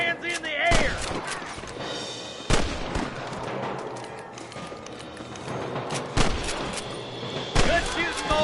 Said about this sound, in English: Good shooting, boy! That fool nearly shot me.